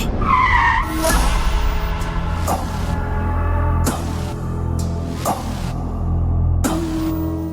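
A car skids to a stop in a Kannada TV serial scene, with a loud opening screech of tires that settles into a rough, rumbling slide and several sharp bursts of noise.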